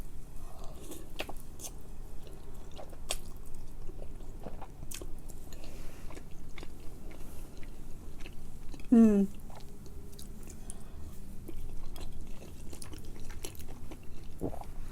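Close-up chewing and biting of Samyang Carbo spicy chicken noodles and dumplings: steady wet mastication with occasional soft crunches and mouth clicks, continuous throughout.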